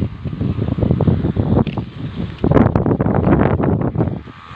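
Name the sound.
strong wind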